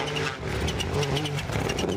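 A rally car engine labours in snow at WRC Rally Sweden 2024, a steady loud engine drone with revving harmonics running throughout, close and continuous.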